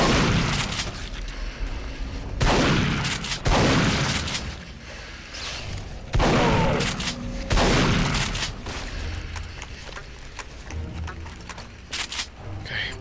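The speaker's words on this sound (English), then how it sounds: "Shotgun! Get the shotgun!" Shotgun blasts from the video game Duke Nukem Forever, heavy booming bursts repeating every second or two over a steady background of game noise and rumble, loud and close with no pause between volleys.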